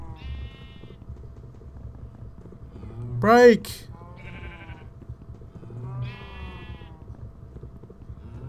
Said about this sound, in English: Don't run away, sheep!